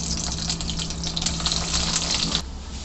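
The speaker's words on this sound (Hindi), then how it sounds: "अब मैं इसके अंदर ये फ्रेंच फ्राइज फ्राई करूँगी।" French fries frying in very hot oil in a pan make a loud, dense, continuous hiss and bubbling crackle close by, steady throughout before easing off slightly at the end.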